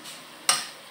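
Onions dropped into hot oil in a worn-out pan, a sudden sizzling burst that flares loudly then settles into a softer steady hiss, with no talking.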